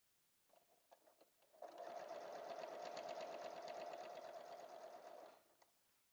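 A sewing machine stitches a quilt, starting with a few slow clicks and then running in a steady, close, even whir for about four seconds before slowing to a stop.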